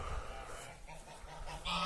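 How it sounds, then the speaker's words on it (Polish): Faint honking calls of ducks in reeds on a farm rise over a soft, rustling outdoor background, distant and low in level. "Kaczki buszują w trzcinie."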